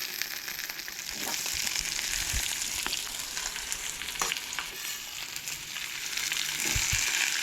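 Onion, garlic, ginger and chillies roast together in a pan for Goan chana masala, giving a steady broadband sizzle with occasional scraping stir strokes, close and continuous with no talking.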